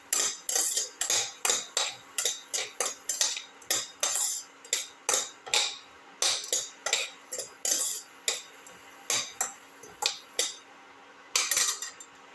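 Ginger chicken being sautéed in a pan, heard as a rhythmic series of sharp metallic scrapes and clinks from a utensil against the pan, close and fairly loud, repeating about every half second with no talking.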